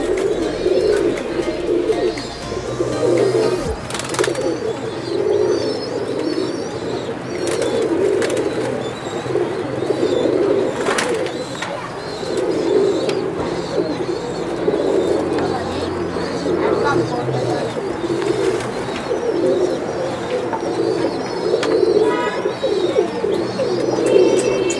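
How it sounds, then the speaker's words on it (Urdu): Chohe Motiyon wale pigeons coo steadily and continuously at close range in a loft, a dense low burbling chorus with a voice speaking over the birds throughout. "دوستو یہ ہے جی چوہا کبوتر موتیوں والا"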